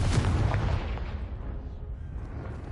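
A Confringo blast spell in Hogwarts Legacy explodes with a loud burst that settles into a rumbling, decaying boom, heard alone.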